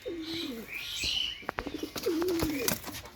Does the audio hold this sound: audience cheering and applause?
no